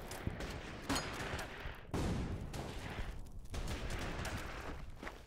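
Gunfire from the Order of Battle: Burma Road wargame, a few dull, muffled volleys and bursts layered over a steady rumble of battle noise, with sharp onsets near one and two seconds.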